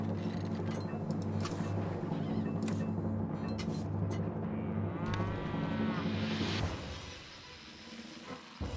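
Cattle in the strategy game Stronghold give a long, loud low moo that fills most of the stretch before fading out, with no speech.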